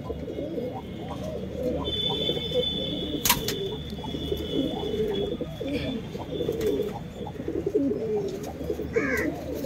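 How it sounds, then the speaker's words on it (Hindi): Pigeons coo in a steady low murmuring chorus, with a brief chirp or two, under a background of talking. "ये कबूतर है, चेक करो"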